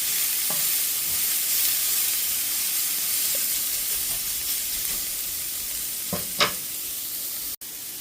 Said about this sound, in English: So those are the sauteed vegetables.